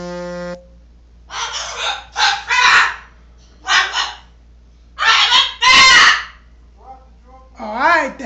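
A bird calls in a series of harsh, crow-like caws, several bursts spread across the clip with gaps between them. Someone talks and raps at it in between the calls.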